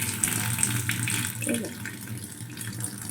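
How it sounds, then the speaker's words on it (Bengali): Water from a tap pours steadily into a container inside a house, making a soft continuous gush. A voice speaks faintly underneath. "এখন ভালোভাবে জল পড়ছে"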